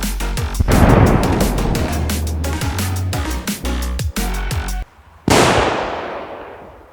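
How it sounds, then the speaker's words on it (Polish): A rapid string of loud firecracker bangs, then a brief silence before one huge, powerful blast from one of the most powerful firecrackers sold, which rings out and slowly fades. "mimo wybuchu jednej z najpotężniejszych petard, jaką w ogóle da się kupić"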